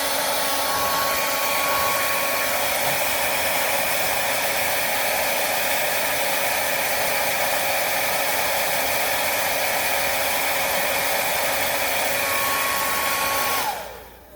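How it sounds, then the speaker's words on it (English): A hair dryer blows steadily at close range while heating vinyl graphics on the front bumper of a 2004 Saturn Vue, a constant loud whine and rush that cuts off abruptly at the end. "hairdryer again"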